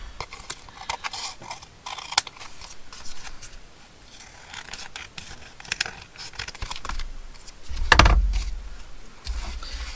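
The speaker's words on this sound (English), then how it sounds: "And I'll just trim the excess off here." Scissors trimming excess paper on a craft tag, with light snips and paper rustling through most of the stretch and a louder, closer cut near the end.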